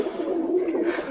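Pigeons drinking water in summer heat give a low, steady cooing hum, close and moderately loud, with a faint soft murmur around it and no talking.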